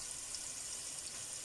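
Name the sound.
frying in a pan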